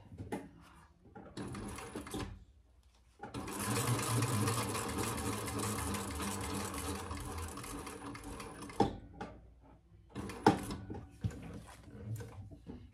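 A Thor sewing machine runs decorative stitching in a long steady burst of rapid mechanical whirring and clatter, preceded and followed by shorter runs with pauses and handling knocks, close and loud with no talk.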